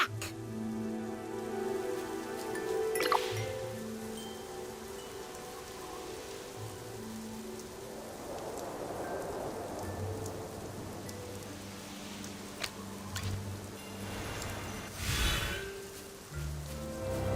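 Steady rain patters through a scene in the video game AFK Journey, a soft continuous hiss of drops over gentle background music, with a faint rumble near the end.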